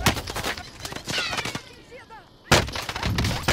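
Rapid bursts of gunfire in a squad-based online shooter video game, sharp repeated cracks in two clusters with a brief lull between, mixed with excited voices of players talking.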